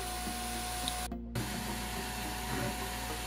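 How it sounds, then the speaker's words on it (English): A Cetus 3D MK2 printer runs with its stock setup, giving a continuous stepper-motor hum and whine with a steady tone. There is one brief dropout near the middle and no talk. "the stock printer is printing, and it's around 60 decibels"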